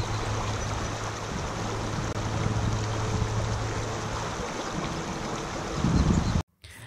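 Fast-flowing water on the Russian River rushes steadily nearby, forming a dense, constant broadband wash with no voices, before cutting off abruptly near the end.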